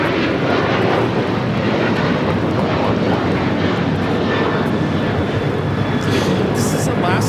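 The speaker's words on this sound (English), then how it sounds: "This is Alaska Airlines 1418 taking off to Guadalajara on 737-900 ER" Alaska Airlines Boeing 737-900ER, flight 1418 to Guadalajara, taking off at Los Angeles airport with a loud, sustained jet engine roar that holds strong throughout, while a voice talks over it.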